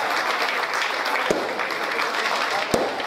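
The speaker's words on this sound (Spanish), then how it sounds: "Fuerte el aplauso para la soberana." Applause for the newly crowned festival queen at the 2016 town patron-saint fiesta in Uluazapa, a steady dense crowd sound filling the whole stretch with a couple of sharper claps standing out.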